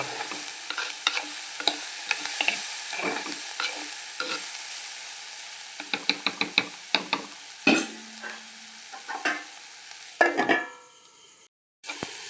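Bitter gourd curry being stirred and sautéed in a pan: a soft sizzle runs throughout beneath repeated scraping strokes of a spoon against the pan, irregular and close, ending with a clatter and a brief lid-like silence.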